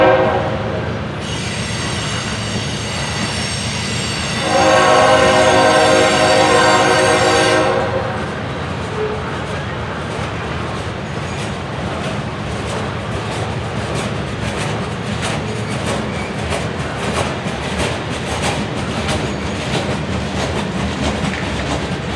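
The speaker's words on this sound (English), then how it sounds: "CSX train M201 takes the connection here at Fostoria to head on west towards the Chicago area." A long CSX freight train rolls past close by at Fostoria, Ohio, wheels clacking and squealing steadily, with a loud burst of horn-like squeal early on.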